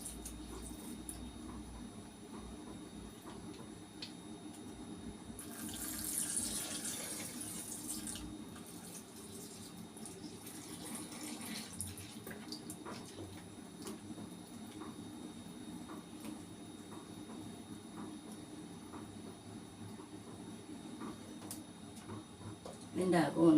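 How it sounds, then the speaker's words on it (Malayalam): Water runs from a tap to rinse out the inside of a milk-heating vessel in a home kitchen, a steady faint stream that swells briefly partway through amid quiet kitchen clatter. "ഇതിൻ്റെ അകം ഒന്ന് കഴുകിയെടുക്കാം കേട്ടോ."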